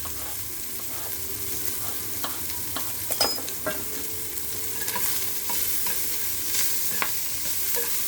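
Small cubes of potato frying in a pan, a steady sizzle with scattered stirring scrapes and clicks, close and even, no voices.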